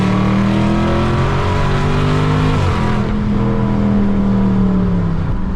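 Dodge Charger Scat Pack accelerating hard, its engine roaring loud and close with rising then falling pitch as it pulls through the gears, no talk over it.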